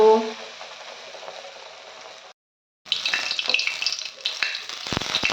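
Pumpkin flower pakoras frying in hot oil: a close, bright sizzling hiss that cuts out briefly, then returns louder and busier with crackles and a few sharp spits and pops.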